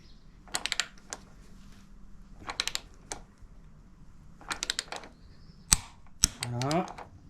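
A torque wrench ratchets in quick clicking bursts, several short runs ending in sharper snaps, while tightening the suspension on an Indian Scout motorcycle.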